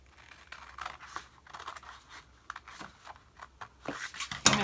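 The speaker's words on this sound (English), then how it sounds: "let's go over here and cut these wedges off" Scissors make a series of quiet, close snips and crisp paper rustles while wedges are cut off a paper gift box, ending in a louder crinkle.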